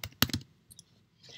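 Several crisp keystrokes on a computer keyboard while an order is entered into a store's ordering system, a quick cluster of clicks followed by a few lighter taps and a soft rustle, close and alone.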